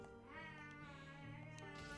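A house cat meows in a long drawn-out harmonic cry that rises and wavers across two seconds, loud and close, alone with no talk over it.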